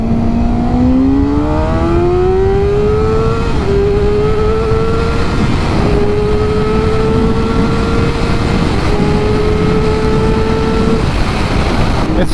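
A motorcycle fitted with a cheap aftermarket eBay exhaust revs up loudly and steadily, engine pitch climbing and holding high over roughly twelve seconds with continuous roar; a voice briefly talks over it.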